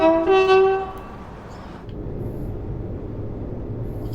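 A train horn in Train Sim World 5 blasts loudly for about a second, then gives way to the steady rumble of a moving train.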